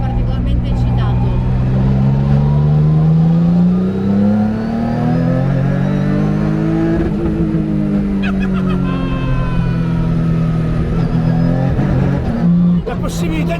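A race car stuck at a motorway toll booth revs and accelerates hard nearby, its engine note climbing and falling through gears in a loud, throaty drone, with people talking over the engine.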